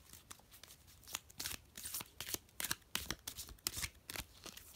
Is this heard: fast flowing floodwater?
no